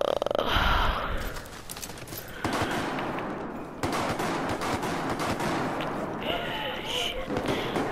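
A shotgun fires repeatedly in Battlefield 4's Gunmaster mode, sounding as sharp bursts mixed with game noise while a player talks over it.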